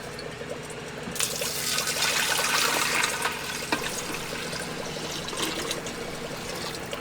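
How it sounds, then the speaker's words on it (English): Gold-recovery solution poured back into a beaker through a filter, a steady close trickle of liquid that starts after a quiet second and runs continuously, fading slightly near the end. "pour that solution back into the original beaker and filter it a few more times"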